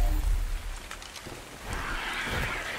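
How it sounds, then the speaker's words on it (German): Heavy rain in the video game ARK: The Island, a steady hissing downpour with low rumbling swells, fairly loud and continuous with no voices. "es regnet zwar stark und wir sehen kaum was"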